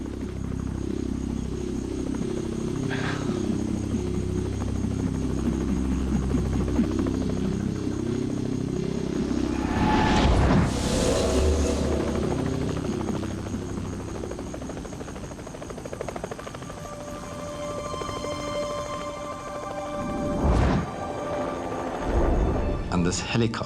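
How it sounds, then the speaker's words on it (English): A search helicopter drones steadily over open wilderness, its rotor buzz constant while a voice talks over it, with a few louder bursts of sound along the way. "And this helicopter comes flying in from our left."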